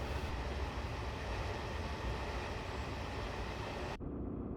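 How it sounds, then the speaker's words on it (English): A train pulling out of a station in Train Simulator Classic on the Newcastle to Morpeth East Coast Main Line, a steady dense rumble of engine and rolling wheels that cuts off abruptly near the end. "We're building up the power slowly here as we leave the station."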